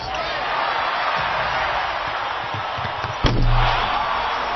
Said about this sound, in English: As he slammed it home with authority.